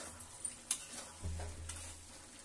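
A spoon stirs cucumber mix sabzi with plenty of coriander in a pan, a few soft scrapes and clinks with a faint low sizzle, quiet and close, with no talk.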